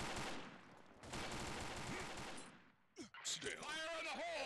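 Video game gunfire rattles in a dense, loud burst of rapid shots for a couple of seconds, then a few sharper shots follow as voices and other game sounds take over toward the end.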